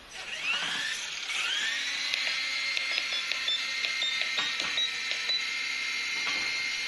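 A repaired Blade MSR X micro RC helicopter spools up and lifts off, its rotor giving a steady high-pitched whine that rises in pitch and holds level, with small clicks and knocks on top and no talk.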